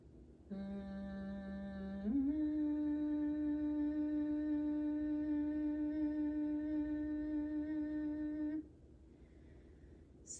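A voice hums steady sustained tones for relaxation practice, starting on a lower note and sliding up to a higher held pitch, each tone close and clear, then falling silent near the end.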